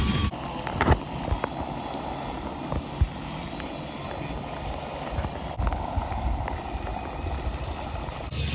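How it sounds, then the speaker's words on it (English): A drill-powered outboard motor pushes a boat upstream against a flooded creek's current, giving a steady droning whir blended with wind buffeting and water rush, close and continuous. "The Drill Outboard is performing well again"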